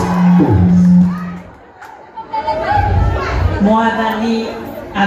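A church congregation cheers and makes noise during a lively service, a dense crowd roar of voices and shouts with a clear voice speaking over it, swelling again toward the end.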